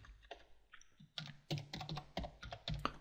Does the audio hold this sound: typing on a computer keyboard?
yes